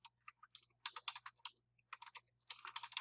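Close, quiet computer keyboard typing: bursts of rapid key clicks separated by short pauses over a faint background hum, with no voices.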